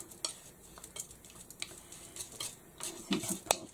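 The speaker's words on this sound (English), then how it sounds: "Mix that together." Black and white paint being stirred together with a teeny drop of black, soft irregular scraping and dabbing strokes, fairly quiet and close, with no talking.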